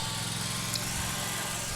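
An old riding lawn mower's small engine drones steadily and continuously at a parade in Maple Grove, a moderately loud, even hum with no voices over it.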